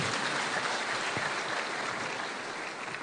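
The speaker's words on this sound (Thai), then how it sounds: "ขอเสียงปรบมือต้อนรับท่านชวนหลีกภัย" An audience claps continuously at a Thai public health organization's anniversary event as a guest is welcomed. The applause is broad and even, fills the room, and fades slightly toward the end, with no voices over it.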